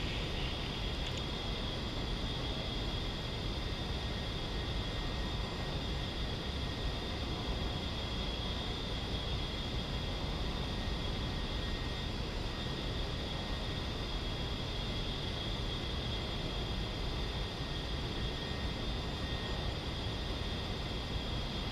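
An A-10C jet in the DCS flight simulator during mid-air refueling behind a tanker: a steady, broad engine roar with a high whine on top, unchanging and moderately loud throughout, no voices.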